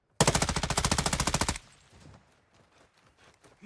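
Rapid automatic gunfire in the Call of Duty DMZ game, a loud close burst of about twenty evenly spaced shots lasting just over a second, then quieter scattered rattling and faint movement.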